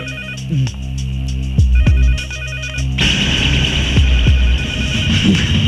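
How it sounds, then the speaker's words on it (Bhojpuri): A telephone rings repeatedly in loud electronic bursts over a steady hum, with a low throbbing pulse underneath. "अरे फोन उठाओ।"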